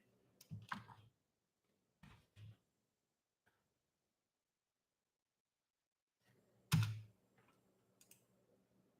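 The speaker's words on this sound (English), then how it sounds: "I'm going to type it in." Clusters of soft key taps from a computer keyboard come in short bursts with quiet gaps between, close and fairly faint, and one louder thump sounds partway through.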